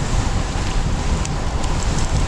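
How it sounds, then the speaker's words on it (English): Wind roaring across the microphone while cycling downhill into a headwind on a city street, a loud continuous broadband rush that fills the whole stretch without pause. "going downhill into the wind here a little bit"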